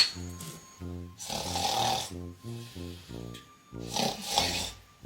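A sleeping person snores loudly and close by in regular rhythmic cycles, each rumbling inhale followed by a breathy exhale, with no speech.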